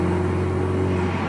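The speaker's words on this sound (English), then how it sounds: "Oh, listen to that boost, boys." A turbocharged car engine accelerating under boost on a highway drones steadily at a low, even pitch, sounding close and continuous with no voices over it.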